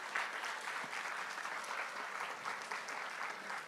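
Steady applause from an audience at a college quiz competition prize ceremony, even and continuous, moderately distant, with no talk over it.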